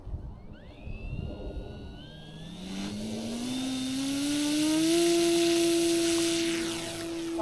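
An E-flite Cherokee 1.3m RC model airplane takes off in strong, gusty crosswind, its electric motor whine climbing steadily in pitch as it speeds up, loud and close, with wind noise and no talk.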